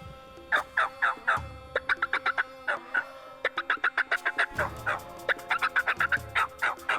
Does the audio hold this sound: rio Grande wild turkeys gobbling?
yes